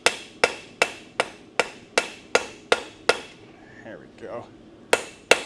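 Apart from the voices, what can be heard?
ball peen hammer forging a recurve on an anvil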